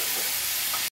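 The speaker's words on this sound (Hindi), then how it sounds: "टमाटरों को भी भून लूंगी मैं" Tomatoes and spices frying in a pan for butter paneer masala give a loud, continuous close sizzle and hiss that cuts off abruptly.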